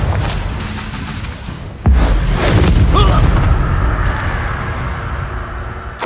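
A Confringo blast spell explodes in the Hogwarts Legacy video game, a sudden loud boom followed by a sustained rumbling roar with crackling bursts, thick low-end energy lingering over several seconds amid continuous game noise.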